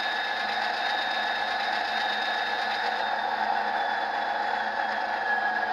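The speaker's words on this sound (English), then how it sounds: "you hear that prime mover is dropping down as it returns to idle" Steady whirring drone of a Tsunami2 sound-equipped Athearn P42 model locomotive's prime mover settling back toward idle, a continuous mechanical hum with high tonal whines that slowly shift lower, fairly loud and alone.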